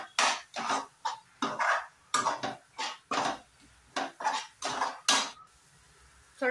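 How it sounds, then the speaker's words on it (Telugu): Cumin and coriander powder masala frying in a pan, stirred with a spoon: a steady run of rhythmic scraping and clattering strokes against the pan, about two per second, close and moderately loud, with no talking. "ఇప్పుడు వీటన్నిటిని మసాలాలను కూడా చక్కగా వేగనిద్దాము"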